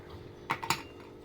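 A few quick metallic clinks and scrapes as fried small fish are lifted out of a karai with a utensil, close and fairly soft in a home kitchen.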